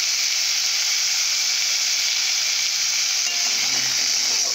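Potatoes cut into long strips frying in a pan, producing a loud, steady, hissing sizzle that holds evenly from start to finish with no voices.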